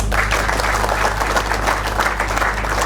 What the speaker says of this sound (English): So can we all just give T a round of applause?